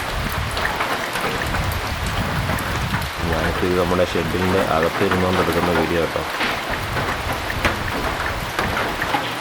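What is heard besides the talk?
heavy rain in the forest by the Periyar reservoir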